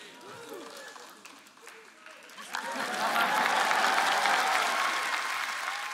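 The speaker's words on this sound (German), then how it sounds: "schon nicht schlechter Applaus" A church congregation bursts into applause for a preacher, starting as scattered claps under a speaking voice and swelling into a fuller, louder round of many hands that holds to the end.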